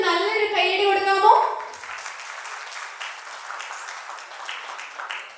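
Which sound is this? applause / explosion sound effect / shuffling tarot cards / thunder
applause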